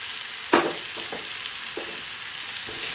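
Cauliflower florets hit hot oil in a pan for Bengali fulkopi bhorta, giving a steady bright sizzle with a few sharper crackling bursts as pieces are added, close and continuous throughout.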